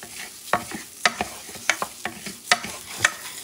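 Long-grain rice being stirred in a pan makes a run of sharp scrapes and taps about every half second, close and clear with no talking.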